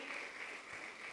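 Church congregation clapping hands to praise the Lord, a dense steady wash of applause at moderate distance sustained through the whole moment.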